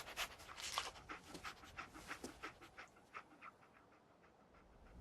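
Dogmeat, the dog in Fallout 4, pants close and loud in quick rhythmic breaths that gradually slow and soften, with no talking over it.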